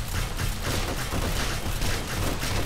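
Sustained automatic gunfire from a co-op zombie horde-night shooter game, dense continuous bursts of rapid shots with booming low end, loud and close, with no talking.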